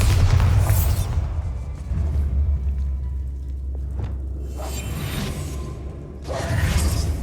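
A Bombarda blasting spell going off in Hogwarts Legacy, a deep rumbling boom with whooshing swells that rise, fade, and surge again near the end, heavy and loud with no talking.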